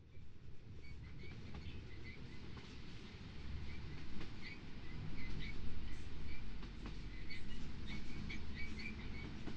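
A metro train in the video game Phoenix Springs rumbles steadily at a distance, a low continuous roar with faint rail clatter and occasional high squeals, no talking.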